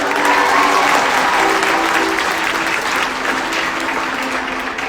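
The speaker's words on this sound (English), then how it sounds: "make some noise for Sarah on the ukulele" Audience at a live conference in New York claps and cheers loudly and continuously after a ukulele performance, a dense wash of applause that stays strong throughout.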